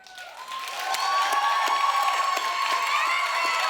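A talk-show studio audience bursts into applause mixed with cheering and high whoops, the sound swelling after a quiet start and staying loud and sustained.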